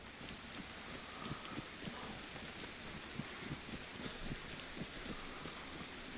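Steady rain falling in the DayZ video game on Chernarus, a soft continuous hiss with scattered drop patters, fairly faint and unbroken throughout, with no voices.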